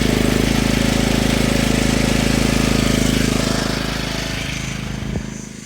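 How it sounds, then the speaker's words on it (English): A Honda generator runs at an off-grid site, giving a steady, loud engine drone with a constant low hum. It eases off slightly partway through, and a brief knock comes near the end. "The EcoFlow charging my gadgets and my Honda generator."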